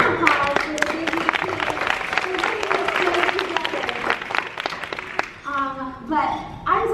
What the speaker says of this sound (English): So round of applause for the Disney team.